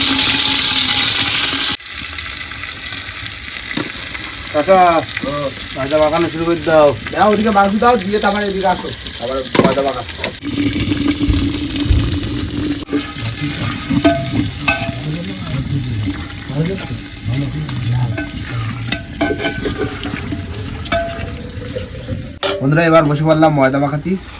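Duck meat goes into hot oil in a clay pot and is stir-fried, giving a loud hiss and crackling sizzle under frequent conversation, with occasional scraping from stirring.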